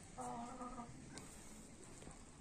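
Caged chickens cluck and croak in a short burst near the start, followed by quieter rustling and faint clucks against low background noise.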